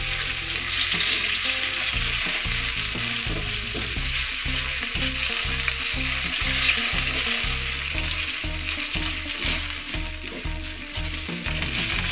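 Squid sizzles loudly in a hot pan with spice paste, a dense continuous frying hiss punctuated by regular scraping strokes of a spatula stirring throughout.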